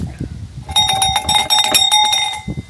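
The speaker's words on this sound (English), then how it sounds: "Ring the bell." A handbell rung at a riverside campsite beside a camper produces a quick burst of bright, ringing metallic clangs close by, lasting under two seconds over soft outdoor background noise.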